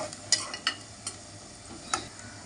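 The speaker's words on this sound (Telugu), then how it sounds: "ఉల్లిపాయలు వేసేస్తున్నాను." Onions tossed into a pan for a raw prawn, mango and coconut curry, giving a few sharp scrapes and stirring clatters over a faint, low sizzle, with no talk.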